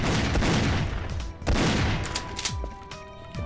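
Continuous volleys of gunfire in the first-person shooter Goldeneye Source, with rapid overlapping shots and booming impacts during a multiplayer match with the golden gun, loud and dense throughout.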